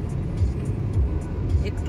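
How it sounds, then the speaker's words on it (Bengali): A Hyundai i10 Nios drives through rain on a morning road, with a steady low engine and tyre rumble inside the cabin while people talk over it. "সকাল সকাল ঘুম থেকে উঠে বৃষ্টির মধ্যে গাড়ি চালাচ্ছি।"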